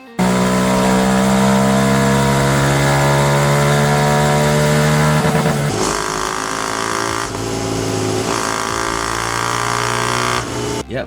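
A 125cc motorcycle engine on a dyno revs hard and steady, held at high pitch, then drops and surges again in repeated loud pulls, close and unbroken.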